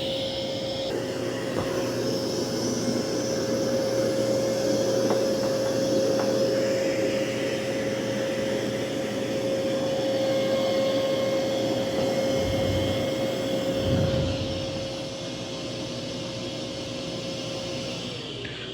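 A Dreame Matrix 10 Ultra robot vacuum runs over carpet, giving a loud continuous whirring drone with a steady tonal whine. The level eases slightly near the end as the machine keeps going.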